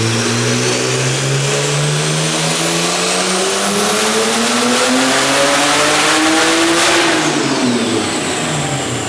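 A big-turbo BMW 135i on a dyno, running a JB4 tune, revs hard and loud. The engine pitch climbs steadily through the gears to a peak, then drops off as the throttle is lifted.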